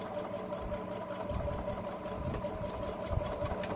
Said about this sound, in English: now we are going to back stitch again